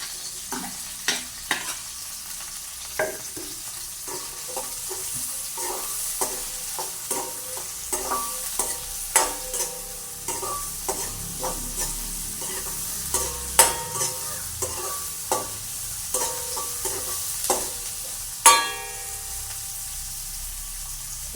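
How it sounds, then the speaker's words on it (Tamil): Onions being tempered in hot coconut oil for a chickpea curry: a soft, steady sizzle with frequent clinks and scrapes of a stirring utensil against the pan, close and fairly quiet. "இப்போ நாங்கள் வந்து வெங்காயத்தை போட்டு தாளிப்போம்"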